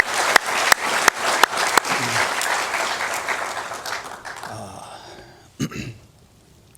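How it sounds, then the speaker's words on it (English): A crowd of listeners at a panel of the Piʻo Summit claps for the panelists, opening with a few sharp separate claps and swelling into full applause that fades out, ending with one brief clap and then quiet. "So we're going to clap again for them."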